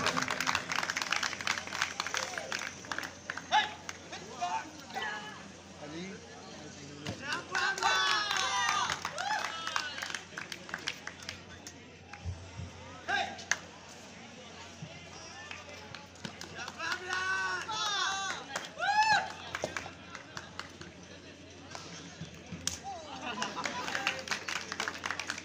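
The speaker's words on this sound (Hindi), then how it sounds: "आज से लेफ्ट साइड पे जो बच्चे खड़े हैं भरपूर तालियां बजाएं" Applause from an audience at a university cultural and sports festival at Superior University Faisalabad, a dense steady clapping texture lasting throughout, mixed with crowd noise and voices talking over it.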